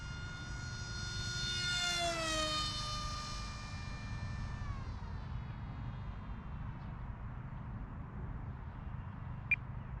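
A small, fast ZOHD Sky Hunter RC plane makes a hot low pass over treetops, its electric motor whine rising loud, sweeping down in pitch as it passes, then fading into distant background noise.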